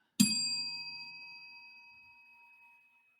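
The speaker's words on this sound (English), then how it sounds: "That was a perfectly timed bell, sir." A single bell ding struck during a Star Wars: The Old Republic community podcast rings out clearly on its own, with a sharp attack and a long, bright, slowly fading tone that lasts about three seconds.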